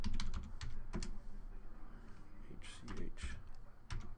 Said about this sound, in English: I'm going to type in the CAPTCHA